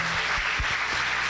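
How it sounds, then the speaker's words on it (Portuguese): A church congregation applauds loudly in a dense, continuous wash of clapping, with a few sharper claps standing out close by. "E aplauda bem forte ao Senhor."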